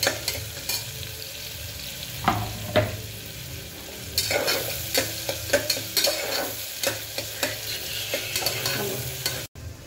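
Chopped onions sizzle in hot oil in a pan while a spatula stirs and scrapes, giving steady frying hiss with irregular clattering strokes, close and fairly loud.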